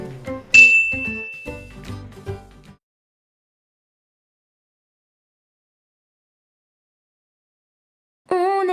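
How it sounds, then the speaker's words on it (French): A bright notification bell ding rings out near the start amid a short tinkling jingle, then silence for several seconds before another tonal sound begins at the end. "n'oublie pas d'activer la petite cloche à côté pour recevoir une notification dès que je sortirai une vidéo"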